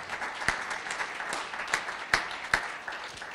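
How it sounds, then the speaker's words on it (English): A modest audience at a student pitch competition claps for a presenter, fairly thin and quiet applause with several sharper individual claps standing out in an uneven rhythm. "let's give him another big round of applause, you guys."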